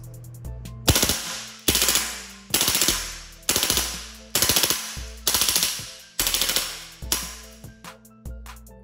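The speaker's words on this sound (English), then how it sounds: "Let's switch to full auto and see if it can cycle all the rounds." A modified PP-2K airsoft gun fires on full auto outdoors in sub-zero winter cold, with eight rapid rattling bursts of clicking shots close by, each about half a second long and separated by brief pauses.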